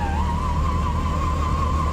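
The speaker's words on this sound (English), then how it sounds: "Sound of the starter even is fun." A Beech 18 aircraft engine starting in a flight simulator game: a steady, loud mechanical drone with a sustained whining starter tone that holds evenly throughout, with no break or catch.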